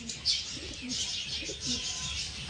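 Soft, repeated low pigeon coos over a steady hiss, with a faint flutter.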